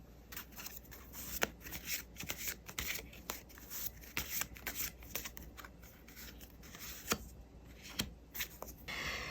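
Tarot cards being shuffled and drawn up close, a busy stream of papery slaps, rubs and sharp snaps of varying loudness, with no talking.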